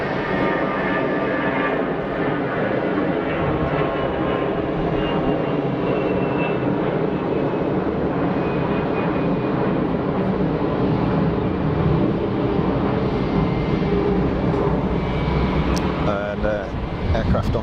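A Saudi airliner departs Geneva Airport, its steady jet engine roar filling the whole stretch at a constant, fairly loud level with a broad rumbling wash and no break.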